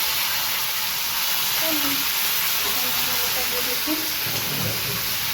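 Tomatoes sizzle and hiss continuously in hot oil at close range, a bright steady crackle with faint low bubbling beneath.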